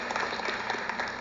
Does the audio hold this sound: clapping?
yes